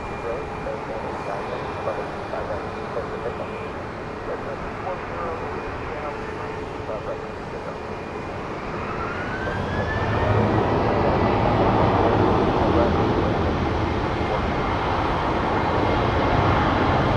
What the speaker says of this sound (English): So this American Airlines is headed to LAX.